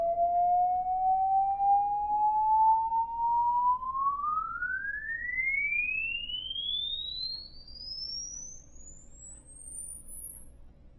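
A pure sine test tone sweeps steadily upward in pitch from a low-mid hum to a very high, thin whistle over about eleven seconds, alone and constant in loudness.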